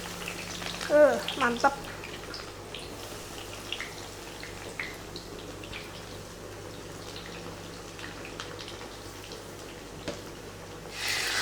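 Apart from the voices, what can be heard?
eggplant frying in oil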